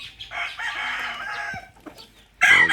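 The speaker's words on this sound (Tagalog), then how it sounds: "Ang daming manok." Fighting roosters on a farm crow and cluck close by, one long crow followed by a short pause, then a sudden loud burst of crowing and squawking at the end.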